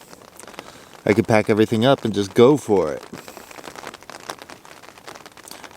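Light rain patters on the outside of a tent during a bike tour in Montana, a soft irregular tapping and crinkle of fabric, with someone speaking close by for a couple of seconds before the rain carries on alone.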